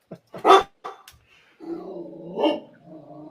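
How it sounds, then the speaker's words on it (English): A dog barks a few sharp times up close, then a voice starts talking over the end. "Hold on, dog."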